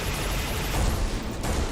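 A thermo gun fires at a proto scout in the space shooter Everspace 2, a dense, continuous rumbling barrage of weapon fire that fills the whole stretch at steady loudness with no voices.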